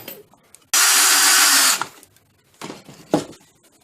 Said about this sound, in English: the power driver forced the screw in so that I didn't even have to make a countersunk recess